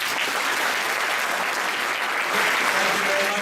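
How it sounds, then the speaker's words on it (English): A school audience at St. Karen's bursts into steady, dense applause honoring a guest, the clapping continuous and fairly loud for the whole stretch. "May I have a hand of applause, please?"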